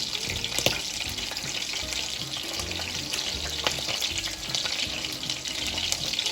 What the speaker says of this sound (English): I've heated up a little bit of butter in this non-stick pan, and we're just going to grill our buns on this